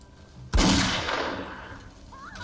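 A single fire bolt spell is cast in Skyrim against a flame Atronach, a loud sudden whoosh and blast that flares up and then decays over about a second and a half, with no talking.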